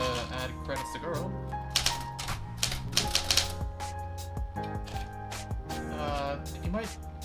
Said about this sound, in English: when you type onto the paper, the rest of the impact gets transferred to